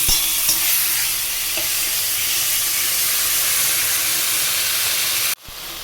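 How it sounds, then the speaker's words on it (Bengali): Cumin seeds with dried and green chillies hit hot oil for a tempering, giving a loud, steady, close sizzle and hiss with a little stirring, breaking off abruptly near the end. "তেলের মধ্যে জিরে, শুকনো লঙ্কা, কাঁচা লঙ্কা ফোড়ন দিয়ে সামান্য নাড়াচাড়া করে নেব"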